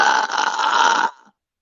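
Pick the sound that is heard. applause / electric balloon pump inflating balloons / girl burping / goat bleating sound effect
girl burping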